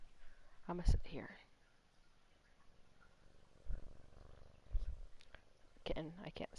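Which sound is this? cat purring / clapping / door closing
cat purring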